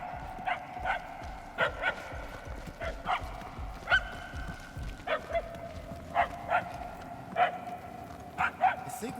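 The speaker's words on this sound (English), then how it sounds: "The barks are getting louder at least." A dog barking inside a maze in the video game Guardians of the Galaxy, repeated sharp single barks at irregular intervals with a slightly distant, echoing quality, while voices talk in between.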